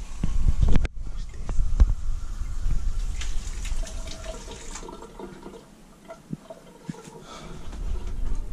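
Cold water running from a tap or shower in a home bathroom, a steady splashing flow close by, with a brief sharp jolt near the start and small clatters through the middle.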